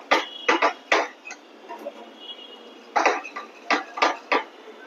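A spoon clinks and scrapes repeatedly against a cup or bowl as a mixture is stirred smooth to break up lumps, with close rhythmic knocks in clusters separated by quieter scraping.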